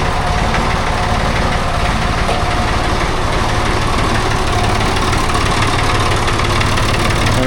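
David Brown 880 tractor engine idling steadily, a continuous rumbling diesel drone with a slight knock, fairly loud and close, running alone without talk.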